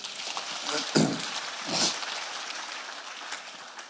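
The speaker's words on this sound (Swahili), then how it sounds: "Pigia Yesu makofi." A church congregation claps during a lively sermon, a faint burst of applause with a couple of sharper clap surges, heard from a distance in a reverberant hall.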